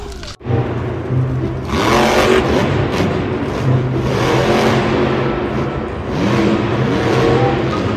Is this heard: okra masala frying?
no